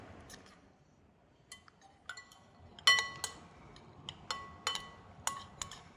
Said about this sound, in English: a few spoonfuls of the mayo into your lobster meat. And stir that around to like very generously dress it